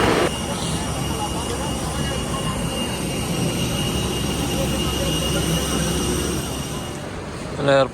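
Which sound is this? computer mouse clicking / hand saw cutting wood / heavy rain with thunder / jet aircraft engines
jet aircraft engines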